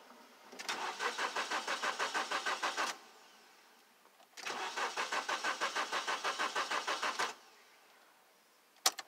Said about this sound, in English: So engine is not starting, and actually I've already changed the sensor.